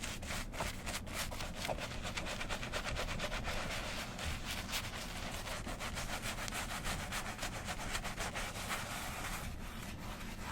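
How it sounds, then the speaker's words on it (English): A soft brush scrubs white shoes coated in cleaning solution, giving a steady, close, continuous rubbing hiss that runs unbroken with no talking. "This brush is nice and soft. We're going to scrub it on there"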